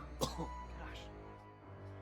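A short, sharp cough near the start, followed by throat-clearing sounds and a faint voice, all fairly quiet.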